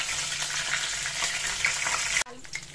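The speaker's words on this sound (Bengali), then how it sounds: "কালো জিরে কাঁচা লঙ্কাটা আমি ফোড়ন দিয়ে দিলাম।" Black cumin seeds and green chillies tempering in hot oil give a loud, continuous frying sizzle and crackle up close, which drops off abruptly near the end.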